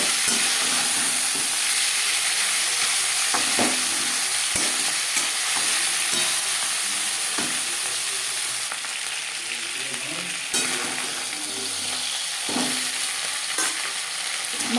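Bhetki fish bones fry in a pan with a continuous loud sizzle, broken by scraping and knocking as the pieces are stirred and turned over with a utensil.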